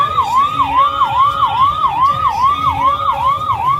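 A wailing ambulance siren sweeps up and down in steady repeating cycles, loud and continuous, close by on a road during the Gujarat elections, with no voices over it.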